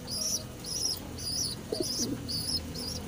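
A pigeon squab in a loft chirps in a regular series of thin, high peeps, about six close calls, over a soft low cooing and faint rustle.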